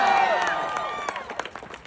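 A crowd at an Austin labor rally for union workers cheers and claps in a short, fading burst of whoops and scattered applause.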